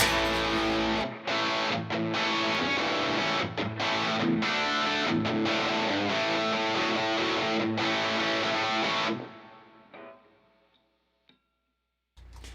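An electric guitar with humbucker pickups plays through heavy distortion in choppy, rhythmic chords for several seconds, loud and close, then cuts out and leaves near silence with a faint hiss.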